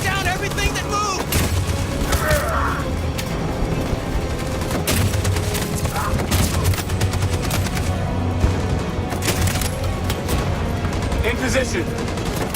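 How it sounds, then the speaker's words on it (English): Rapid machine gun bursts and scattered gunshots ring out continuously through a battle scene in the video game Detroit: Become Human, dense and loud, with voices heard amid the gunfire. "That machine gun is taking down everything that moves!"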